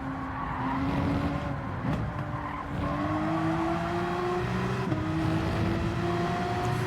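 Race cars in Gran Turismo 7 during Le Mans 24H qualifying hold a steady, rising engine whine, with tire squeal and skidding noise running through a continuous loud drone.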